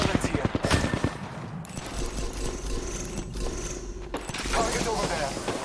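Video game gunfire: rapid bursts of automatic shots up close at the start, then a stretch of continuous mechanical rattling and clatter, with a voice talking over it.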